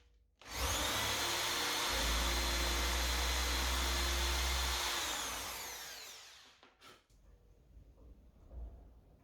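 A power drill whines loudly and steadily for about six seconds, boring a small hole in wood for a stool, winding down before a few quieter knocks and handling sounds.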